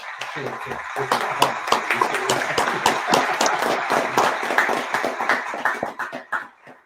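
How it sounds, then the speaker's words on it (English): A room full of people at a podcast's 100th-episode live gathering claps and cheers, a dense, loud burst of applause that holds steady for several seconds, then thins out and fades near the end, with voices mixed into the noise. "So, applause for that."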